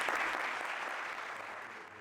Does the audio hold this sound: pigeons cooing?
no